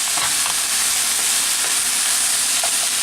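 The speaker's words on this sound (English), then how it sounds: "So I'm just sauteing them a little bit" Butternut squash, yellow squash and zucchini saute in a pan with a steady, close, even sizzle and a few faint stirring clicks, with no voices.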